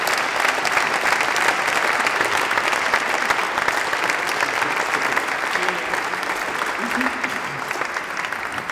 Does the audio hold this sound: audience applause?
yes